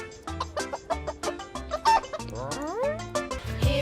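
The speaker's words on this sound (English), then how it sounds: "Oh, Snowy, you are a naughty hen." A cartoon hen clucks in quick, rhythmic bursts, with a rising squawk partway through, close and prominent over light background music.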